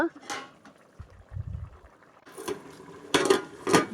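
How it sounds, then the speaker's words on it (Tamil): Chicken biryani pot boiling on high flame, a soft bubbling rumble with short bursts of louder bubbling and clatter near the end, close by. "இன்னும் நல்லா கொதித்து வந்து வருது"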